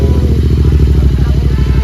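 A Royal Enfield GT 650 fitted with a Red Rooster exhaust, dB killer removed, runs with a loud, steady, throbbing engine note and a deep pulsing rumble, close by, with no clear break over the short stretch.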